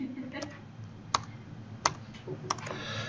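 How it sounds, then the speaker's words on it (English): Computer keyboard typing, a few sharp, isolated key clicks spaced about a second apart over a soft background. "I might have just made a mistake in typing."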